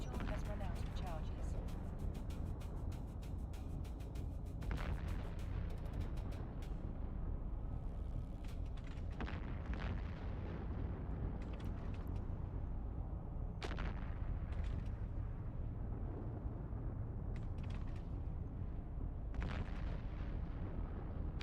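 Repeated heavy weapon blasts and explosions from battleship combat in a space video game, bursts landing at irregular intervals over a dense, constant rumble of game sound.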